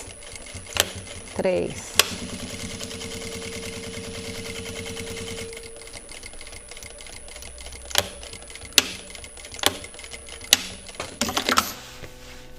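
A sewing machine stitches the side seam of a crossbody fabric bag with a short backstitch, a steady close mechanical run of a few seconds followed by sharp handling clicks and taps, with a voice speaking briefly.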